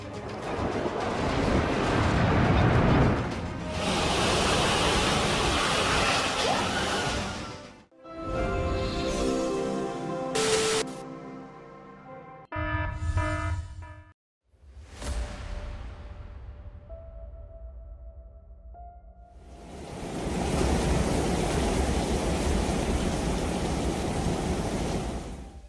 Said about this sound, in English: Flash floods hit El Paso, with torrents of water rushing through every street corner